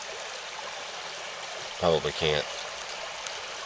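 A small mountain stream flows in a constant close trickling wash, with a person briefly speaking over the water partway through.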